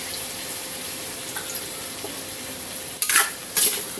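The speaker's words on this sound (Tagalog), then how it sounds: "Haluin natin." Pakbet vegetables being stirred in a pot, a soft steady simmer with faint clinks, then two brief louder scraping stirs near the end.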